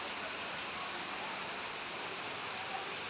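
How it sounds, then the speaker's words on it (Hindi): Steady, continuous rain falling outdoors during a cold spell, a dense even hiss holding at constant loudness throughout, with no breaks and no talking. "देख सकते हैं आप इतनी लगातार बारिश हो रही है"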